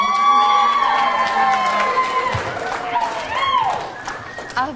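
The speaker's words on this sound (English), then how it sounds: "How about a round of applause for Hollyn Keene Brown?" Wedding reception guests cheer and clap for the bride, with shouts and whoops rising over a crowd while music plays underneath throughout.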